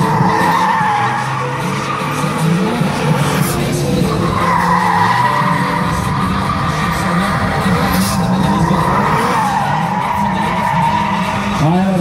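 A BMW drift car skids through a Latvian drift cup round in Jelgava, its tires squealing loudly and continuously with engine roar and wavering pitch sweeps throughout.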